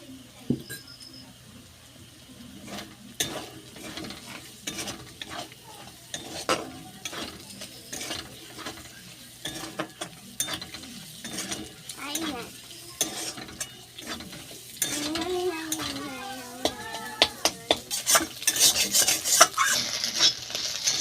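Scrambled egg fries in oil in a pan while a utensil repeatedly scrapes and stirs it, a continuous close sizzle punctuated by rhythmic scraping that grows louder toward the end.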